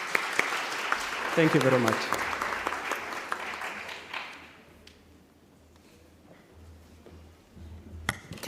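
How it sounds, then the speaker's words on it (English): Applause from a conference audience fills the first few seconds, then fades out as someone speaks briefly and a few scattered claps follow. "But let's clap for all of us."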